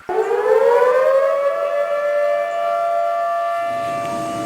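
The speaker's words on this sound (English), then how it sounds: "Sirens warned people downstream as the shutters of the Cheradoni Dam of the Idiki Reservoir were opened today." A civil defense siren warning of dam shutters opening at the Idukki Reservoir in India winds up and holds a loud, steady wail, its tone sustained and close for several seconds with no voices.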